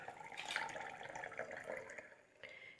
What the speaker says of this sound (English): And a little bit of soda water.